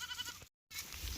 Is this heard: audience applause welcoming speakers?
no